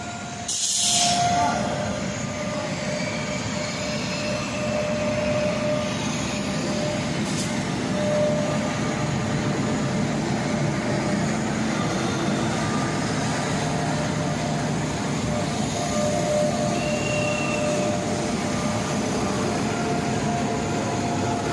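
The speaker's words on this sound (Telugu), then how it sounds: "ఎందుకండి చాలా స్పీడ్గా వెళ్తుంది ట్రైన్" A train rushing past at high speed at a small railway station, a loud continuous roar of wheels and wagons with faint squeals, sustained throughout.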